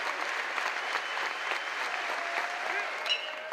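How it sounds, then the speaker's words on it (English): A crowd at a college baseball game between Georgia Tech and Ole Miss applauds steadily, a dense, even wash of clapping with a sportscaster's voice over it. "even with the crowd noise."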